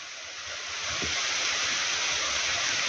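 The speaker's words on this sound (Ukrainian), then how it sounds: "Красивий водоспад. Біжить із лісу водичка, аж до самої низу до річечки." A five-tiered forest waterfall, Lazny, in the Ukrainian Switzerland area, spills down toward a small river below, making a steady broad rushing roar that grows slightly louder early on and then holds constant, with no voices.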